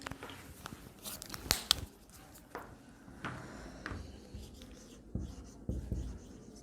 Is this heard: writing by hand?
yes